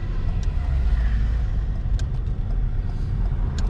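A car drives along a road, heard from inside as a steady low rumble of engine and tyres, with a few faint clicks and no talk.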